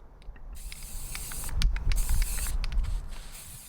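Bursts of aerosol spray paint hiss onto a pumpkin in a garden, a few short puffs then a longer steady spray, close by with light outdoor background noise and no talking.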